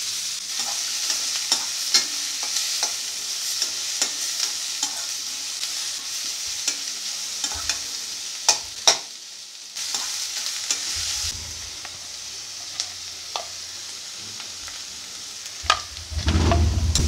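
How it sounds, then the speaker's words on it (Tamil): Onions sizzle steadily in a hot pan while a spoon stirs and scrapes at intervals, with occasional clinks and a louder scrape near the end. "இப்போ வெங்காயத்தை சேர்த்துக்கிறேன், வதங்கட்டும்."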